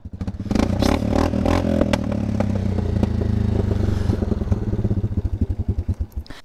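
Linhai ATV engine fitted with a Toba Sport Akrapovic-style exhaust, close and loud, revving up then settling into a lumpy idle whose uneven pulsing beats grow distinct toward the end, with clattering mechanical noise.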